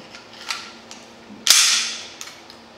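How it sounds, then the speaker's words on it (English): A Magpul FPG folding pistol fires one loud, sharp report near the middle, with a lighter crack before and after it. The shots sound close and stand alone without talk. "It's so much fun to shoot too."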